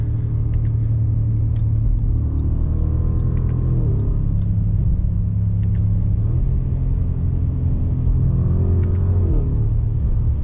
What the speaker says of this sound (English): Wow, that exhaust. It's muted, but it likes to be played like an instrument.